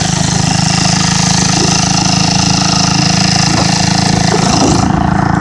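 A Briggs and Stratton engine on a motorized Schwinn bicycle drones loud and steady while riding, a constant close-up buzz with no break from start to finish.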